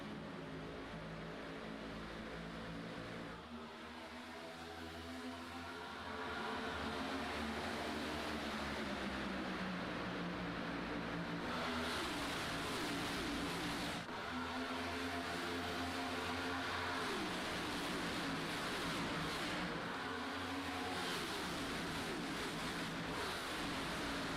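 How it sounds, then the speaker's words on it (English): A pack of race cars accelerating at the green flag at Daytona in a racing video game, a dense, loud engine roar that swells after a quieter opening and stays sustained to the end. "It's time to turn these drivers loose for 100 laps here at Daytona."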